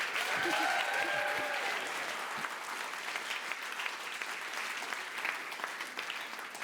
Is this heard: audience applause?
yes